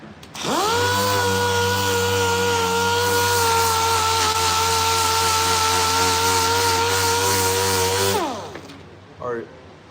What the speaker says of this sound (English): So we're gonna go ahead and sand it so we don't have to sand it after the fact.